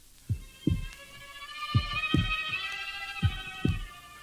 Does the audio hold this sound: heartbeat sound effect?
yes